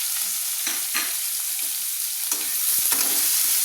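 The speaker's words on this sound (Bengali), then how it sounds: "হালকা হালকা করে পেঁয়াজগুলো আমি ভেজে নিচ্ছি।" Chopped onions fry in hot oil in a pan while being stirred, making a continuous close sizzle broken by scraping and clinking stirring sounds.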